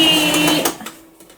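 A sewing machine stitches a seam on a long gathered skirt with an elastic back, a brief close burst of fast mechanical whirring that cuts off after under a second, leaving quiet clicks.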